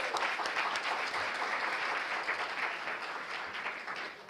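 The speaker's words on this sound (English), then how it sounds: "So, a round of applause." A summit crowd at a community college breaks into sustained applause, dense even clapping that holds steady for several seconds at a moderate distance with no voices over it.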